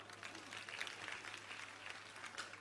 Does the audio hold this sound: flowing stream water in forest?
no